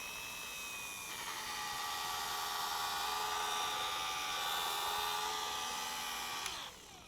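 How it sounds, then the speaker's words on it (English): A rotary polisher whines steadily at high pitch while spreading headlight restorer across a BMW headlight, holding a constant droning tone for several seconds before the motor winds down near the end. "since I am dealing with a rotary, I will be turning on the machine away from the surface"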